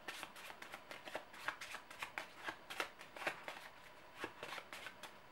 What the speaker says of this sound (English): I will shuffle this and just draw one randomly.